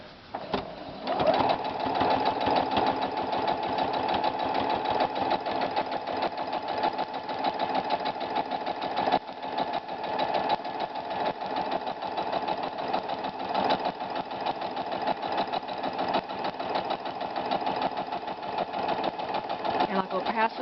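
Sewing machine running steadily for about twenty seconds, stitching the sew line between pieces 2 and 3 of a paper-pieced quilt block; a close, continuous mechanical whir with a fast stitching rhythm and no pauses.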